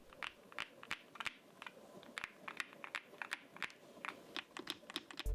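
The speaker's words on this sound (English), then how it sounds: "Now, let's hear the typing sound test." A NuPhy Halo65 V2 65% mechanical keyboard is typed on at a steady pace, a quick stream of crisp, close keystroke clicks with no talking.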